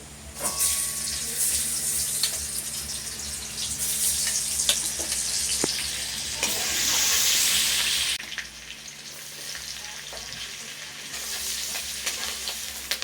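Chopped garlic sizzles and fries in a pan of butter and white oil while it is stirred, a steady close crackle with scraping taps and a louder burst of hissing midway.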